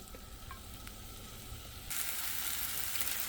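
Half a cup of chopped onions frying in hot oil in a cast iron skillet, a soft steady sizzle that suddenly swells much brighter and louder near the end, close up with no voices.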